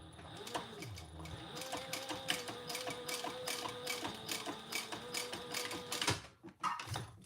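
A sewing machine runs a one-eighth-inch topstitch on a folded fabric traveler pouch, a fast steady mechanical whir with brief stops and restarts, close by, ending in a pause and a few short bursts.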